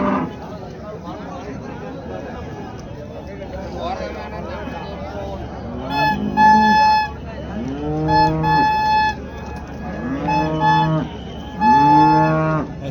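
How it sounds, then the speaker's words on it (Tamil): Holstein Friesian cows at a cattle market in the Erode area moo repeatedly in long, loud, drawn-out calls that grow stronger in the second half, over constant crowd chatter and someone talking. "ஹெச்எஃப் மாடு பெருவெட்டு."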